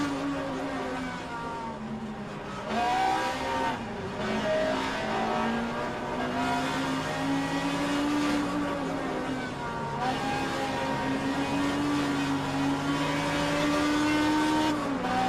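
Virtual historic sportscars racing at Lime Rock in a sim racing game: engines roar and rise in pitch through revs, dipping under braking into corners, loud and continuous with several cars overlapping.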